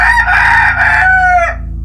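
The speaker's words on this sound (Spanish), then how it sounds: "el gallo despierta, ve luz y canta." A rooster crows once, loud and close: a single drawn-out, strained call that rises and then trails off, with nothing else around it.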